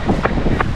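Gusty wind blowing outdoors beside a park lake, a loud, rough rush that buffets the microphone throughout the brief moment.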